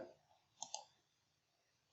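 Mouse clicks in video editing software, heard as a quick pair of soft, close, clean clicks in a quiet room.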